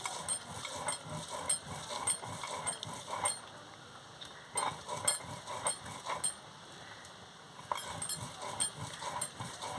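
Spices ground by hand on a very old stone grinding slab (shil), rhythmic scraping and knocking strokes in repeated bursts separated by short pauses, close and fairly quiet.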